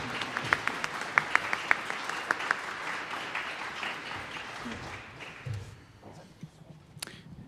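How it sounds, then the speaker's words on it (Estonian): Applause from a concert audience for the saxophone section of a big band, a dense steady clapping with a few sharper claps standing out, fading away over the last couple of seconds. "Korraks aplaus ka saksofoni rühmale."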